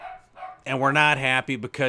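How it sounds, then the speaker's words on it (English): A dog barks and yelps loudly nearby in a quick burst of several barks, overlapping a person talking. "Sorry about my dog up there."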